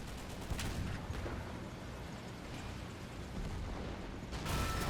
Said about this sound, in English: Oh, more explosions too.